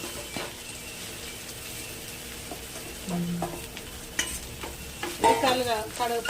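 Turmeric being stirred into a hot pan before it scorches, with a steady low frying hiss, scattered scrapes and clinks of the spoon, and a busier burst of stirring near the end.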